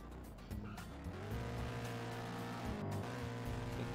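A car in the video game Palm Ridge accelerates hard toward top speed, its engine note climbing steadily and droning loud and close, with brief tire squeal at the start and no talking.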